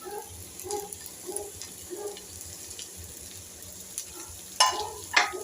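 Chopped ivy gourd stir-fried in hot oil for a dry sabzi gives a soft, steady sizzle, with periodic scraping stirs and two sharper clatters near the end.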